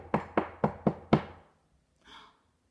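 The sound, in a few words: knock at the door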